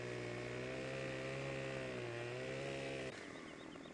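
A chainsaw cutting firewood in Farming Simulator 17 on Xbox One runs at a loud, steady high-revving whine with a strong buzzing tone, dipping slightly in pitch as it bites, then dropping to a lower idle near the end.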